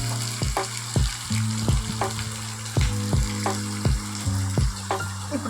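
Onions and green chillies frying in a pan for aloo kurma, a continuous close sizzle with regular rhythmic scraping strokes of a spatula, each stroke giving a brief knock, while a steady hum runs underneath.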